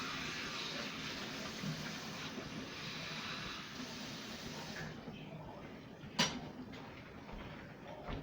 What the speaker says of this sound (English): I think I'm going to run a little bit more water on there.